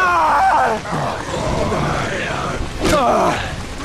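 A game character in the zombie game Zombi groans and screams in drawn-out, wavering cries, loud and close, with a sharp yell near the end.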